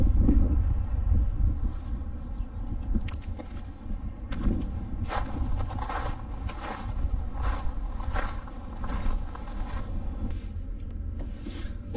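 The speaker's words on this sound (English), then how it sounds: "the wind was crazy on the way here. It was like 20 to 30 mile per hour winds." Strong gusts of 20 to 30 mph wind buffet the microphone on a Route 66 road trip, a heavy low rumble with bursts of crackling and flapping that rise and fall throughout.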